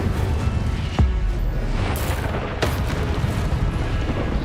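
Incendio fire spell bursts in Hogwarts Legacy combat, a few heavy booming impacts with sharp cracks over a dense, continuous rumble of battle noise, loud and close.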